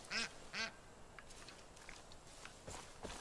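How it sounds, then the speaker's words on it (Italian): Two loud, close duck quacks in quick succession in the video game Far Cry 5, followed by faint scattered clicks and soft footstep-like taps. "le anatre volano così alte qui"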